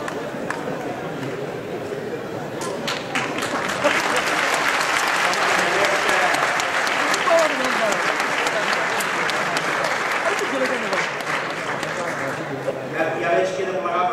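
Sustained audience applause at a talk with Artur Mas, steady clapping that grows fuller after a few seconds and continues for over ten seconds, with scattered voices mixed in.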